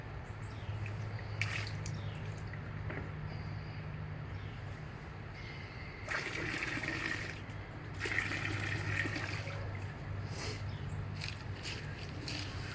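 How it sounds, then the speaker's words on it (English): Water drains and trickles off a gold prospector's pan or bucket in Montana, a steady close splashing wash with louder pouring surges, no speech. "I'm going to drain some more of this water off."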